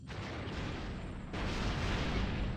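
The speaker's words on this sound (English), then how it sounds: "Watch the explosions coming from those convoy craft" Explosions of convoy craft in Star Wars: X-Wing Alliance, a continuous rumbling roar of blasts that jumps louder partway through, filling the clip without talk.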